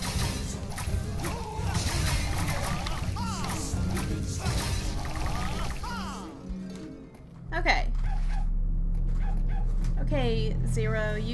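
A dog barks and yips in the PlayStation 2 game Oogie's Revenge, set against a dense bed of game music and effects before the scene drops to quieter ambience.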